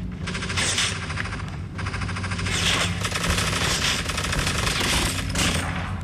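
Sustained automatic gunfire from a new weapon in a Call of Duty battle royale match, rapid dense bursts rattling almost without pause for several seconds, loud and close.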